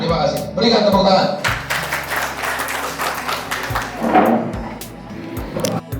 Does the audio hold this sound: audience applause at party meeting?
yes